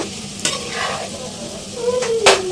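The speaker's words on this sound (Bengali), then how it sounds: "এখন মাংস আর আলুগুলো ভাজা করা পালা।" Meat and potatoes fry in a pan as a utensil stirs them, giving steady sizzling broken by scraping strokes and a few sharp clinks, close and fairly loud.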